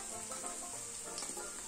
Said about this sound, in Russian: Жарим драники по 1 минуте с обеих сторон.